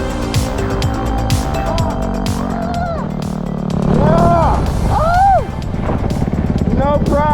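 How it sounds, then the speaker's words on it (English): A motorbike in first gear chugs up a slope on a ride near Lang Son, its engine droning and revving with rising and falling pitch, loud and close amid wind noise. "I punched my bike down into first gear to chug up the slope."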